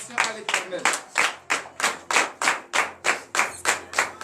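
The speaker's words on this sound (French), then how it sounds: "donnez de vives acclamations à l'Éternel" A church congregation at morning prayer claps in unison, about ten sharp, evenly spaced beats, close and loud, with voices calling out acclaim over the rhythm.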